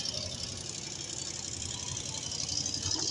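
The engine of a HOWO 380 truck with front drive hydraulics runs at a steady idle, a close, continuous mid-pitched drone with a light rattling knock and no speech.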